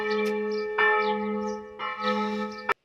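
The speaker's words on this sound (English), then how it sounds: "this bell ringer is going absolutely crazy right now" Church bells in Rouen ring out a tune, a bright, sustained tone with clanging strikes at irregular intervals, close and resonant, cut off abruptly at the end.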